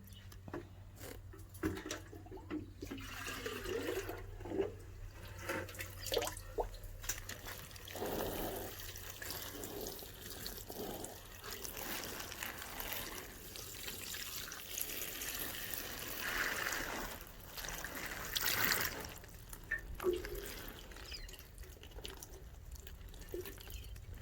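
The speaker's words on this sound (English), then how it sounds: "So I'm going to water this one and put it back up." Water is poured and trickled into a shallow indoor worm bin in soft, uneven splashes and dribbles that rise and fall over about twenty seconds, quiet and close.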